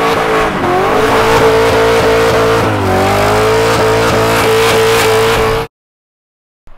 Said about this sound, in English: Blowing the tires off.